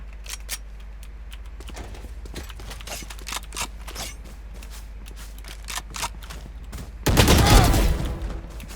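Gunfire in a shooting video game: scattered crisp single shots and mechanical clicks, then a loud, dense burst of rapid fire near the end.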